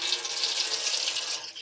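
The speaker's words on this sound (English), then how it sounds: "Let's begin by turning on the water." A kitchen tap runs continuously for hand washing, a close, steady hiss of flowing water with no voices.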